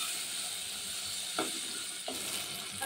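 Turmeric and garam masala being sautéed in a pan for a green chickpea curry, a steady close sizzle of frying with a couple of brief scraping stirs and no talking.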